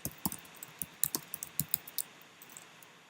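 Keys on a computer keyboard tapped out in a quick, uneven burst of clicks, close and fairly quiet, heard alone with no talk and thinning out toward the end.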